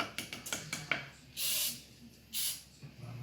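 Two short bursts of Pam olive oil cooking spray hiss from an aerosol can, each about half a second long. They come after a few faint taps and clicks in a quiet room.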